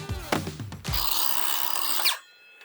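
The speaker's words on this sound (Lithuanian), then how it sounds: "Gründer diskinis pjūklas, nes su juo labai paprasta perpjauti medį" A Gründer circular saw cuts through wood. A few short revs and knocks come first, then a loud, steady whining cut runs for about a second and a half before stopping abruptly and leaving near silence.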